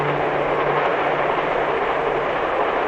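A passenger train runs along tracks cut into a mountainside, a loud, continuous rumbling rush with a low hum at the start, heard close and alone.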